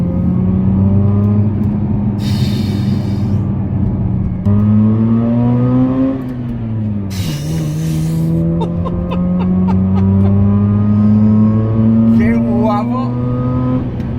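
A Mazda RX-8's engine revs repeatedly, pitch climbing and dropping through gear changes, with a raspy high-revving, motorcycle-like tone; someone talks over parts of it.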